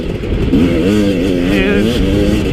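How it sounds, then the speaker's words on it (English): A Husqvarna TE250i fuel-injected two-stroke motorcycle engine runs steadily close by, a loud continuous buzzing drone with slight wavering rises in pitch. "this bike runs so bloody clean that it's just kind of astounding."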